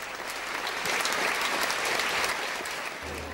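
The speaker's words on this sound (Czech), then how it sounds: "Dozněl potlesk poslední." A theatre audience at the Jiráskův Hronov amateur theatre festival applauds in a continuous, fairly loud burst of crowd clapping that stays even throughout.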